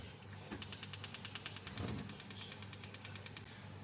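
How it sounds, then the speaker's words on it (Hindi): Gas stove burner being lit: a rapid, regular train of about twenty sharp igniter clicks, close and fairly quiet, stopping abruptly. "मैं इसको थोड़ा मिक्स करके चूल्हा जलाऊंगी"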